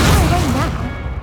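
A fiery Incendio spell bursts in Hogwarts Legacy, a loud close boom with a sweeping whoosh that rolls off and fades within about a second.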